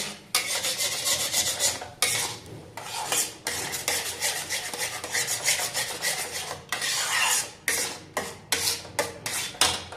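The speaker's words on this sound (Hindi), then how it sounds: "इस तरह से सारा पेस्ट डाल के इसको नीचे से अच्छी तरह से दबा दबा करके इसको चला लेते हैं।" Almond paste being stirred and pressed with a spatula in an iron wok over a low flame, giving steady rasping, scraping strokes that come in bursts with brief pauses, close up and fairly loud.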